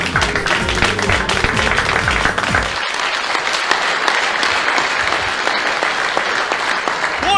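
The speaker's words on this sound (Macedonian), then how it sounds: "Аплауз, мајко, Божи!" Loud, dense audience applause from a large crowd, sustained throughout with music playing under it for the first few seconds.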